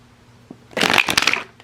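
A deck of cards is shuffled in one quick riffle, crisp and close, with a brief flutter of cards before the sound stops.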